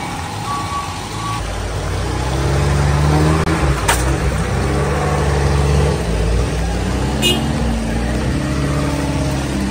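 A car engine rumbles close by in the rain and passes slowly, with a faint beeping tone early on and a brief sharp click.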